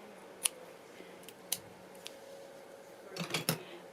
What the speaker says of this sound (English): what I do with them is I snip into it like that